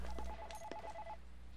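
A telephone rings in a video game, a pair of electronic trilling bursts heard clearly over a steady low background hum, with no talking.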